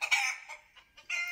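Chickens clucking and squawking close by, a couple of loud agitated bursts with a short quieter gap between them.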